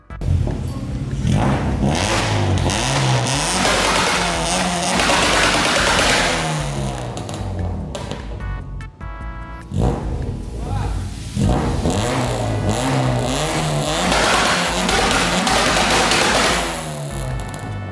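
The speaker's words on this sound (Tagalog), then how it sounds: "gusto nang hatawan ni boss kung anong tunog ng kanyang muffler" A Honda Civic SiR engine revs hard through a stainless muffler, loud sustained blasts with a short drop around the middle before climbing again, close to the microphone.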